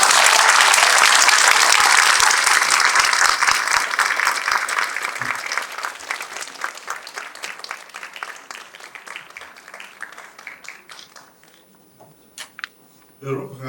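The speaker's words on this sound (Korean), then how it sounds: "우리 총장님 장로님 나오실 때 박수로 환영하겠습니다." An audience at a church summer retreat lecture claps loudly to welcome a university president, the dense applause thinning gradually into scattered individual claps before fading out.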